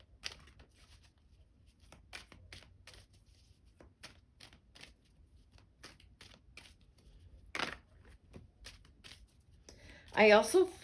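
Repeated crisp riffling and snapping of tarot cards being shuffled, close by, in short bursts with quiet gaps, ending in a louder rustling flurry.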